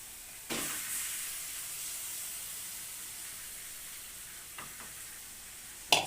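Marinated chicken hits a pan of ginger, garlic and onion masala for a Rajasthani chicken dish, a soft hiss of sizzling that fades slowly, with a couple of stirring scrapes later and a clink at the end.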